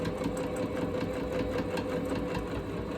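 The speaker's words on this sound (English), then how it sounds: "I can sew fast on the straight parts, but when I come to the curves" A sewing machine stitches a quilted Christmas stocking with a steady, continuous mechanical whir and rapid rhythmic needle clatter, close and even throughout, with no talking.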